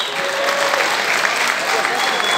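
A crowd at an MMA fight night welcomes a fighter to the ring with loud, continuous applause, a dense, unbroken roar of clapping throughout.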